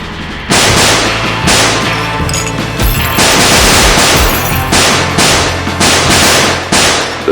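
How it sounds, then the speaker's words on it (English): Dense bursts of film-style gunfire in a gangster shootout, rapid overlapping shots and volleys that keep coming loud and close for several seconds with no talking. "The smoke, the bullets, the blood, every shot was payback."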